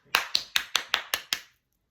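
Seven sharp hand claps in an even, quick rhythm, close and crisp, followed by silence.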